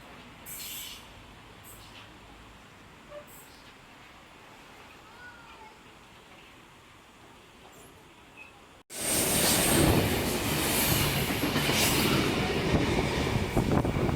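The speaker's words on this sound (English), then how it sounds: "V32 passing platform number 2 for a Hamilton Newcastle service." An NSW TrainLink V-set intercity train, set V32, passes platform 2 at Koolewong station on a Newcastle service. Quiet platform ambience gives way abruptly to a loud, close rumble and wheel noise for the final few seconds.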